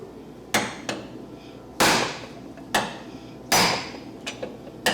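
Hammer blows on a wrecked 2014 Nissan 370Z body panel during repair, about six sharp metallic strikes at an uneven pace, some hard and ringing, a few lighter taps, close and loud.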